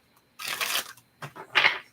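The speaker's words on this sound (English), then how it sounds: "All right, last shuffle." A deck of tarot cards is shuffled in a few quick riffling bursts, close and fairly loud, with short pauses between them and no talking.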